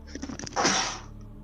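A single sharp sneeze bursts out after a few faint clicks and knocks, fairly close and loud, then trails off into quiet.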